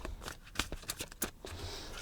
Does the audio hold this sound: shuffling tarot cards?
yes